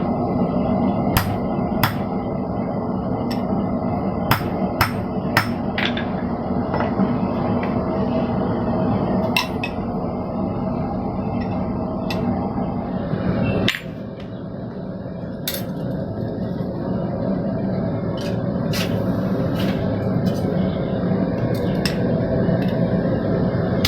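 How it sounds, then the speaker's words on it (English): Hot steel is hammered over half rounds to forge bent-knee blacksmith tongs. Sparse, sharp metallic strikes ring out at irregular intervals over a constant background roar, with no speech. "hammering in half rounds here to make this tong to hold rounds"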